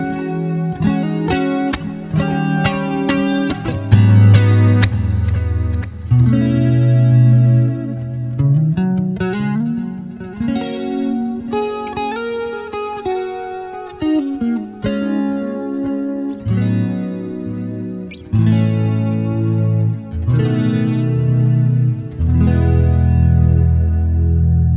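An electric guitar played through a Fender Tone Master Pro with modulation added, giving loud sustained chords and swelling notes with a wavering chorus-like shimmer and some distortion, continuous and alone.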